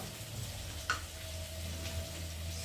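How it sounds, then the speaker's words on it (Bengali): Onion, potato and pointed gourd fry together in a pan, giving a steady close sizzle that runs the whole time, with one brief stir or scrape partway through. "পটল সব একসাথে দিয়ে লাল লাল করে ভেজে নিচ্ছি"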